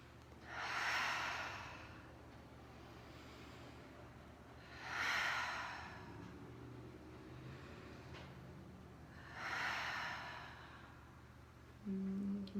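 Three slow, deep breaths come in evenly spaced waves, each a soft, airy rush that rises and fades, heard close and quiet against a faint steady background hum.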